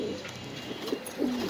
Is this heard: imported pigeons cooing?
yes